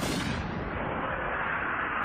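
Ice cannons fire projectiles in the Fairy Tail anime, a continuous heavy roaring blast sustained throughout with a sweeping rush, no speech.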